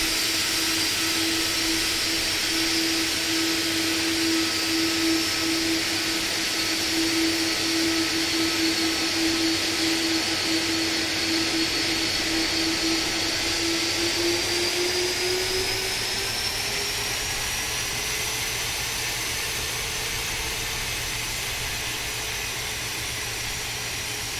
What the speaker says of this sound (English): You can hear the APU spooling down there.